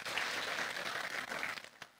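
A church congregation bursts into loud, dense applause and cheering, sustained for a couple of seconds before tapering off.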